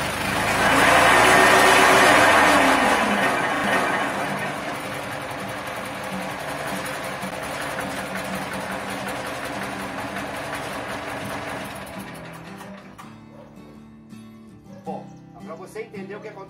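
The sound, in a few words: Silare silage wrapper engine starting and running accelerated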